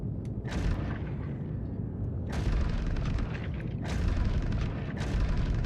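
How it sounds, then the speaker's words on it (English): A Ballistic Gatling gun mounted on a ship fires in a space combat game, with booming bursts and a steady rumbling roar that surges and swells in waves, loud and without any voice over it. "now I'm using only my Ballistic Gatling gun, fire."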